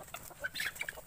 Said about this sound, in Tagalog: So yan yung update ng ating mga bantam chicken dito sa ating backyard